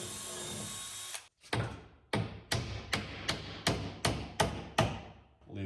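Hammer blows driving nails into a wooden drawer for a truck camper build, about nine sharp, evenly spaced strikes following a brief steady hum, close and fairly loud with no talk.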